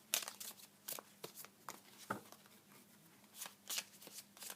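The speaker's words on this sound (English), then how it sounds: "We'll shuffle the cards." Tarot cards being shuffled close up, a series of quick riffling flutters and soft slaps in irregular bursts, fairly quiet.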